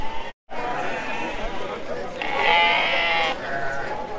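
Lambs bleat several times, fairly close, with a longer wavering bleat midway, over background chatter of people talking at a livestock market in Havran, Balıkesir.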